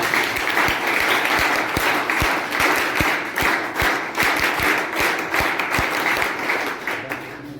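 Audience clapping at a college event, a dense spread of applause with a few louder individual claps standing out, steady throughout at moderate distance and fading slightly toward the end.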